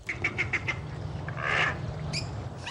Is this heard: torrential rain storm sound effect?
no